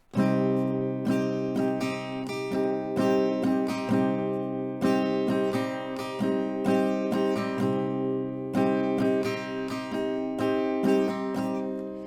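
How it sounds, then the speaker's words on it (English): Steady acoustic guitar strumming of a song in a repeating down-and-up rhythm, bright and close, with regular accents and no voices. "so there we have the strumming and the rhythm for the song"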